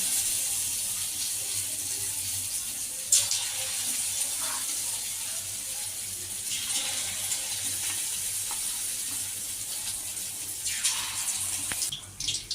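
Battered paneer pakoras drop into hot frying oil, raising a steady, bright sizzle close by that swells in a few louder bursts as each batch hits the oil.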